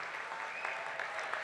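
Audience applause at a CPRS conference general session as leaders stand, steady dense clapping sustained through the whole moment, moderately distant with no voices over it.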